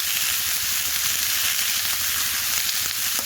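Chopped pumpkin, potato and green peas sizzle steadily in a hot pan, a loud, continuous close hiss of frying that holds even throughout without talk.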